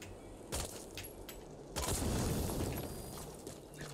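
Explosions in the video game Metal Gear Solid V: The Phantom Pain, a couple of muffled booms with a louder, longer rumbling blast in the middle, fairly faint game audio without speech.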